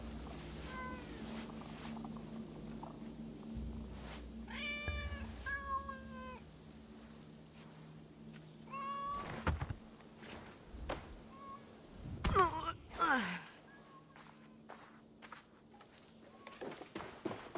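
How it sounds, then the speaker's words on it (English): A tabby bobtail cat in Assassin's Creed Shadows meows several times, short close calls spaced apart over a quiet ambient game background, with a louder rustling burst partway through. "Is that a cat? I thought I heard a meow."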